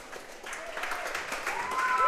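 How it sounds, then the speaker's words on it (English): A crowd at a Georgetown football coaches' show gives applause for the booster club president, the clapping fairly faint and building gradually, mixed with a voice speaking. "give him a big, loud round of applause as well"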